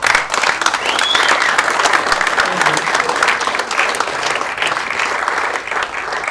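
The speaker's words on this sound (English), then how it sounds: "what about if we all get up on our feet and give Nick a big round of applause?" A standing audience gives Nick a sustained round of applause, loud and dense clapping filling the room for several seconds without letup.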